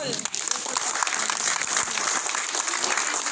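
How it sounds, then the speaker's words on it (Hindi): Loud, sustained applause from an audience gathered for an event honoring elders, a thick steady wash of many hands clapping at once, close and continuous. "इनकी तारीफ के लिए तो मैं जोरदार तालियां भी"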